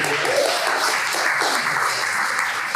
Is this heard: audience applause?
yes